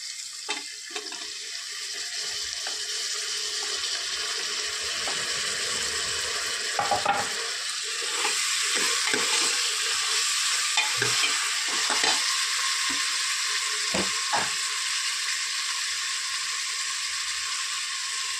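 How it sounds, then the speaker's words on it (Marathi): Tomatoes sizzle in a hot pan of mixed potato, eggplant and lentil vegetable dish, a steady hiss with occasional scraping stirs and brief clinks, no talking. "आता टाकणार आपण टमाटा"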